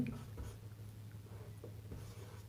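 A pen writes trigonometry notes on paper, making faint, light scratching strokes in short bursts close by, quiet against a low steady room hum.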